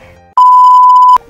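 A single loud electronic beep from a board game timer rings steadily for just under a second, sharp-edged and alone, with quiet room sound before and after.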